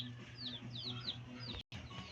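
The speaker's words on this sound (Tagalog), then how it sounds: "Kaya dito ang manok." A chicken clucks repeatedly in short rising calls, fairly close, over a quiet low hum with a brief dropout.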